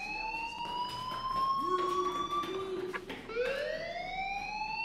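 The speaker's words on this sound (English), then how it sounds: "do you hear that fire alarm? That means you should be outside." A fire alarm rings in the video game Life Is Strange, a steady electronic wail with rising and falling siren-like tones sounding continuously and fairly loud throughout, with no talking over it.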